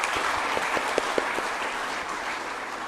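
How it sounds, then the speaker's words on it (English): Students at a university orientation are applauded by the audience: a steady wash of many hands clapping, with a few sharper claps standing out near the start, fairly even and sustained throughout. "Can we give a big round of applause for all my students?"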